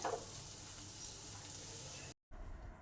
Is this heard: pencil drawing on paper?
no